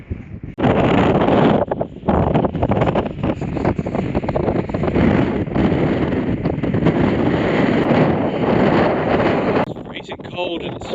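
Strong wind on a cold hilltop in the Lake District, loud continuous roaring buffeting on the microphone for about ten seconds, gusting unevenly with no talk over it.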